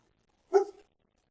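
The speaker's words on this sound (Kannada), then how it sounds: "ನಾಯಿ ಬೊಗಳಕತ್ತದಲ್ರಿ" A dog near a temple outside Kalaburagi gives a single short bark in otherwise quiet surroundings.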